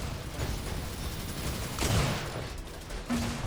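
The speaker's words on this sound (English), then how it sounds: "misses that sniper shot. And another." Sniper rifle shots fire in an Unreal Tournament match, a sharp broadband crack near the middle followed by a second shorter report toward the end, over constant game ambience and dense background noise.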